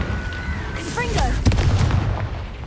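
A Confringo blasting spell in Hogwarts Legacy goes off as a heavy booming blast near the middle, after a brief whooshing launch, with game ambience and combat sounds around it.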